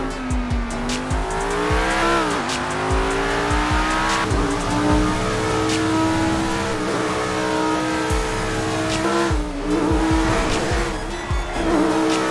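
Armored supercar in the video game GTA 5 revving hard, engine note climbing and dropping through gear changes, with repeated tire squeals and skids, loud and continuous throughout.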